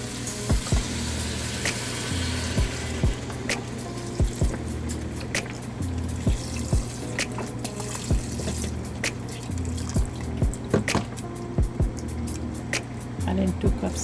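Vegetable stock poured from a box into a soup pot for broccoli and potato soup, a soft liquid gurgle and splash beneath someone talking, punctuated by repeated sharp clicks and taps.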